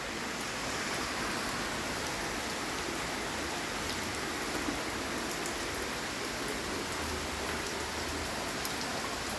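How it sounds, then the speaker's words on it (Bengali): Heavy rain pours down steadily over a residential lane with flooded streets, making a dense, unbroken hiss that stays constant from start to finish. "মুষলধারে বৃষ্টি হচ্ছে।"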